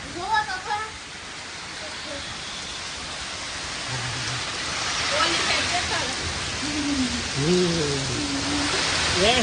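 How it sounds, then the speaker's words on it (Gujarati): Heavy rain falls in a broad, steady wash that builds louder over the seconds, while voices talk over it. "જોઈ લો ભાઈ વરસાદ ને મેન"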